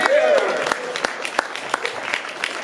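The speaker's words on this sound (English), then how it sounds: "Give a round of applause for our brave volunteer." Audience at a live magic show clapping for a volunteer called on stage: scattered, separate claps with gaps between them. They follow a brief voice at the start and stay fairly close and moderately loud.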